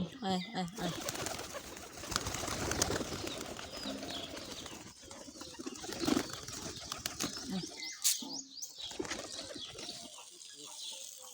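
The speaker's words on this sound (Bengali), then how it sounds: "সকালবেলা ঘুম থেকে উঠে দেখি কবুতরগুলো দরজার সামনে দাঁড়িয়ে আছে খাবার খাওয়ার জন্য" Pigeons waiting at a door for food coo and flutter their wings in restless bursts, close by, mixed with a person's voice talking over them.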